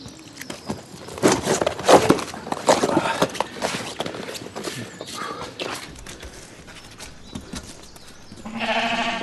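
Sheep on a farm bleating near shearing time, several loud cries in the first half over rustling and handling noise, fading to a quieter stretch before a final bleat.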